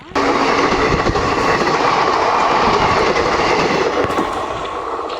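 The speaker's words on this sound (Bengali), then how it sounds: "পিছনে ট্রেন আসতেছে, তো আমরা সাইড হয়ে নিলাম।" A train rolls past on a railway line in Kerala, a loud, steady broadband roar of wagons and wheels close by that holds for about five seconds, easing slightly near the end.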